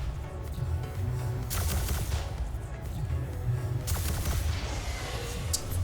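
Railgun fire in the space combat game Elite Dangerous, heard as two sharp bursts over a constant low ship hum, with a crackling, spark-like tail after each shot.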